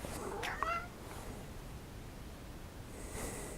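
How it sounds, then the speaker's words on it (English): A single short cat meow near the start, followed by soft rustling and faint background hiss. "There's a cat down here."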